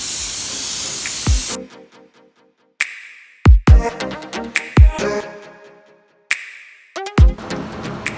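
Bursts of spray hiss from a paint spray gun applying base coat to a BMW E92, one long blast followed by shorter sprays separated by sharp clicks and brief pauses.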